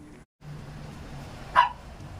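A single short dog bark, somewhat distant, cuts through a steady low background hum.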